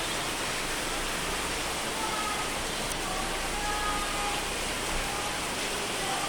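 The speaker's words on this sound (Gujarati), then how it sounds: "બહારથી તો બહુ બધો વરસાદ છે" Heavy rain pours down in a dense, unbroken hiss, steady and close throughout.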